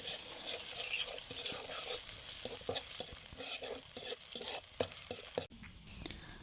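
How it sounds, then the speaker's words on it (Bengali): An egg fries in a pan over onions and mustard greens, sizzling steadily while a utensil stirs and taps in quick irregular strokes, close and fairly loud, with a few soft spoken words. "দেখুন এখন আমি এই ডিমটা দিয়ে দিচ্ছি দিয়ে দিয়ে এরপরে একটু হালকা নেড়ে চেড়ে নিয়ে উঠে নিব"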